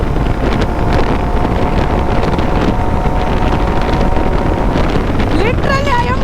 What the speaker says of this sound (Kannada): Heavy wind blast.